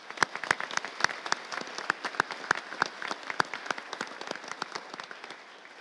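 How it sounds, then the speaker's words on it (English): A school awards ceremony audience claps in a moderate, scattered round, with individual sharp claps distinct over a softer bed, heard from a short distance. "So Tom Mannering, we'll clap him in his absence."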